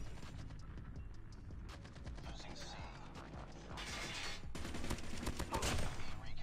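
Bursts of gunfire in the Call of Duty Mobile shooter game, with rapid shots and mechanical clicks thickening toward the end over a steady game soundtrack.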